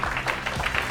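An audience claps to welcome sailor Boris Herrmann onto a stage at a science event in Monaco; a short, fairly soft patter of applause with a low background hum.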